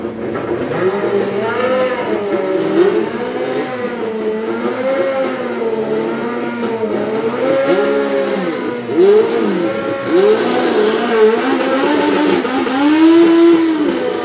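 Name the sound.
Nostalgia Pro Stock drag bikes racing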